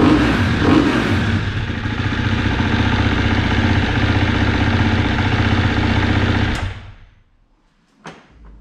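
A motorcycle engine runs steadily at a rapid, buzzing idle for several seconds, then abruptly shuts off, leaving near silence broken by one brief clunk.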